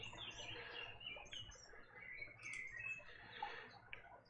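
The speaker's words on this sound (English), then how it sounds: "I just want some birds. I just want some there we go. Happy little birds." Faint, thin bird chirps in a forest come and go over a soft ambient outdoor hiss, distant and scattered with no clear rhythm.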